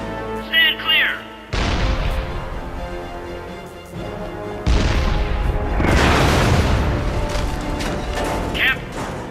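Heavy booms and explosions from artillery in the Captain America: Super Soldier video game rumble loudly in two long blasts, with brief speech at the start and end.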